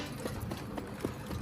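Harness racing horse trotting, hooves clip-clopping in a quick irregular rhythm amid steady rumbling outdoor noise, with no talk.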